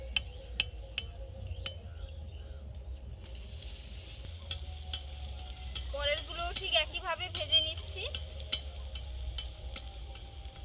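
Luchi made from flattened rice frying in hot oil, giving a steady close sizzle with small crackles and ticks throughout and a slightly busier stretch of bubbling midway.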